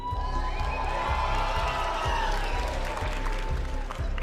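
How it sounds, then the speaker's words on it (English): A large arena crowd at a Brawl Stars Championship esports event in Berlin cheers and applauds continuously, with whoops and shouts rising from a steady roar that holds loud and close throughout. "The crowd has been super loud today. Let's hear it one more time."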